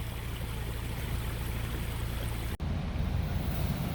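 Flood water overflowing from a pond and rushing into a creek, a loud, steady broadband roar of flowing water with a brief dropout partway through.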